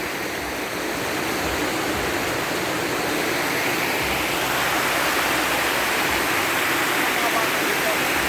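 River water rushing in a steady, broadband flow, close and fairly loud throughout, with children bathing in the river nearby.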